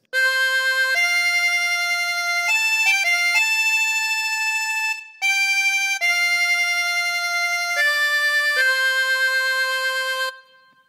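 Amazing Grace plays slowly on a harmonica as a sequence of clear, sustained single notes, each held for about a second, with one brief gap near the middle and a soft trailing end. No one speaks.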